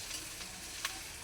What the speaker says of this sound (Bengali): মশলাটাকে ভালোভাবে ভেজে নিয়েছি।